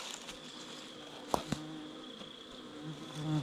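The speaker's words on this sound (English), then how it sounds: "these bees are coming flying out of this hive" Faint buzzing of honeybees flying out of a hive hums steadily in the background, with a couple of sharp knocks and brief tonal drones drifting by.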